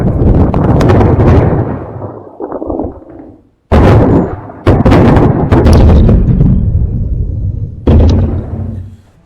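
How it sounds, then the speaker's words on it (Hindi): A hypersonic missile strike on a target in Ukraine: loud, heavy explosive booms and blasts come in several bursts, with short gaps between the rolling detonations. "ये आप देख रहे हैं, उस मिसाइल से अटैक किया है और बहुत महत्वपूर्ण जगह पर यूक्रेन की मिसाइल दागी गई है।"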